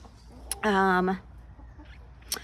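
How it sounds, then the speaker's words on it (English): A single drawn-out cluck from a chicken rings out close and clear, with a faint bird call trailing after it in an otherwise quiet outdoor setting. "Chickens are just hanging out with me."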